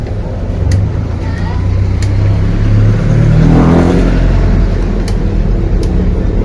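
A Yamaha Mio Soul i 125 automatic scooter engine idles steadily close by, with a low continuous hum that rises briefly in revs midway before settling back to idle.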